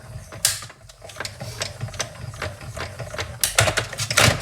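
Hand-cranked die-cutting machine pulling a covered die through for a stamping craft project, with close ratcheting, clicking gear sounds and a few sharper clunks over several seconds.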